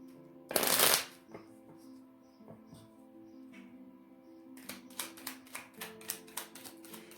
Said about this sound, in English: going to pull 3 messages from my soulmate cards